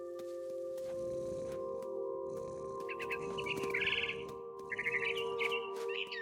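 A mama bird chirps in the What Remains of Edith Finch video game, sharp high tweets breaking out in short bursts over a steady ambient tone.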